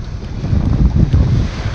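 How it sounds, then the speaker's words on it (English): Strong storm wind blows hard across the microphone by the sea, roaring and buffeting steadily with low rumbling gusts, while the sound of waves mixes faintly beneath and no one speaks. "We have a lot of wind."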